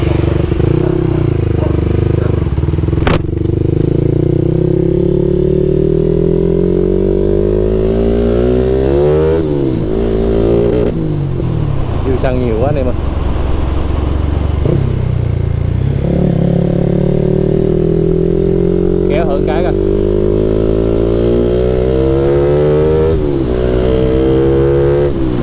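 A Yamaha Exciter motorcycle fitted with its stock exhaust idles steadily up close, then revs up and settles back several times, with clattering mechanical noise mixed into a loud, continuous engine note.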